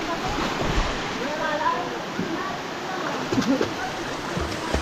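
Steady rush of a river at a Calantas outing, flowing water with occasional splashes, continuous and fairly close, with people talking faintly over it.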